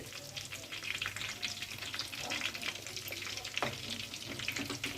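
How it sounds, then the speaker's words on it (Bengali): Bhetki fish fingers sizzle and crackle steadily in hot oil in a pan, a close, continuous frying hiss with occasional sharper spatters and no talk. "একটা সাইড বেশ কিছুটা ভালোভাবেই ভাজা হয়ে গেছে, এবার উল্টে দিচ্ছি অন্য সাইডটা ভেজে নেওয়ার জন্য।"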